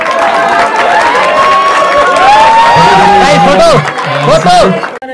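A comedy-show audience in Nepal breaks into loud applause and cheering after a speech, with whoops and chatter over clapping and voices rising and falling near the mic.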